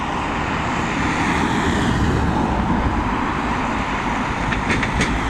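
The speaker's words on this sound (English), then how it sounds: "we will get departure shots of that beautiful Emirates 777, which is now just taxiing towards the main North Runway itself" Emirates Boeing 777 taxiing toward the north runway at Dublin Airport, a steady loud broadband jet roar that holds constant throughout, with faint high whining tones near the end.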